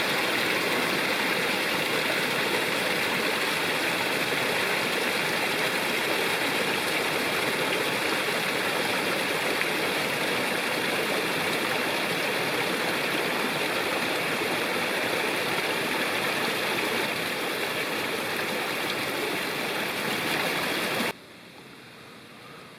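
A forest stream rushing steadily near a campsite in Nantahala National Forest, a loud, unbroken wash of water close by for most of the stretch before it drops abruptly to a quieter hiss.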